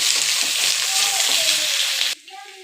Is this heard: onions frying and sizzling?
yes